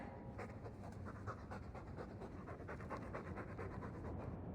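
Rapid, steady panting from a dog in Dragon Age II, an even run of short breathy huffs close by in a stuffy room. It stays quiet and keeps going throughout with no voices.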